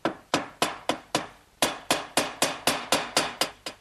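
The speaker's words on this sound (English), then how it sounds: "drive those in through my pre-drilled holes" Hardwood 1/4-inch dowels coated with glue are hammered into pre-drilled holes, a run of about a dozen sharp, loud, evenly spaced blows at close range with a short pause midway.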